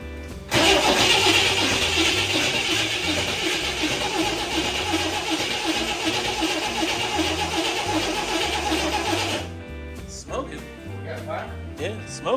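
An old Corvair engine, unrun for five years, cranking loudly and continuously for about nine seconds without catching, then stopping, with voices talking nearby afterward.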